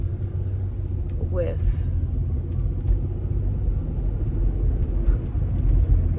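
Cars drive past in morning road traffic, a steady low rumble of passing vehicles under a person talking close by.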